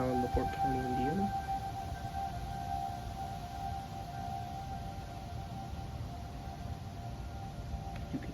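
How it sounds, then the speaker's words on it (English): Civil defense sirens sound a tornado warning in La Porte County, Indiana: a steady, sustained wail carried from a distance, with a brief voice near the start. "You can hear the sirens, hopefully."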